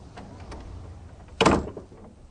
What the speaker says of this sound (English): I closed the storm porch door behind me